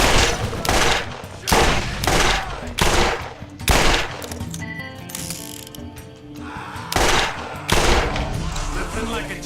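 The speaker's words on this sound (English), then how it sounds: "You've got an exploding gun." Borderlands exploding gun firing: loud, evenly spaced heavy shots with clattering mechanical tails, a pause with lingering game ambience, then more shots resuming near the end.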